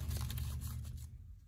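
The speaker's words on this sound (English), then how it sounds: "I'm gonna put my deck back together, shuffle it up" A Magic: The Gathering card deck being shuffled by hand, a quiet run of papery riffling and scraping that fades out partway through, with no talking.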